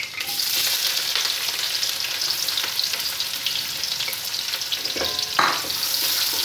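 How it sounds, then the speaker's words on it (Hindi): Onions frying in hot ghee: a steady, close hissing sizzle runs throughout, broken near the end by a couple of brief stirring scrapes. "प्याज को हल्का फ्राई कर लेते हैं।"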